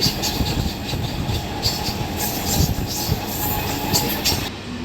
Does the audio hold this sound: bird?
no